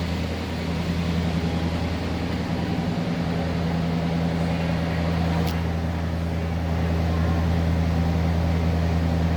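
A 1970 Ford Torino GT with a 429 V8 runs smoothly, giving a steady, even low engine hum that holds level and unbroken from start to finish.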